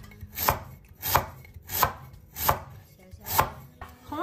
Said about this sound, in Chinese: 接着我们再改刀给它切成薄薄的厚片，切的时候尽量给它切薄一点